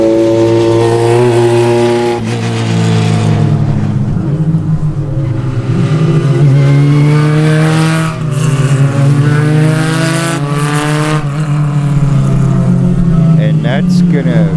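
Spec Racer Ford race cars in an SCCA club race at Sebring, engines roaring loudly and continuously with rising and falling revs as they pass, a steady dense drone throughout.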